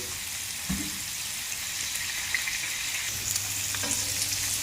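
Sardines fry in hot oil with a steady, bright crackling sizzle throughout, close by and fairly loud, with occasional soft clinks of stirring and a low background hum.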